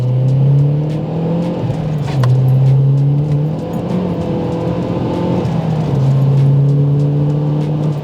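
A stock MazdaSpeed 3 accelerates hard through second, third and fourth gear, its engine drone climbing steadily in pitch, dropping briefly at each shift, then rising again, loud and heard from inside the car.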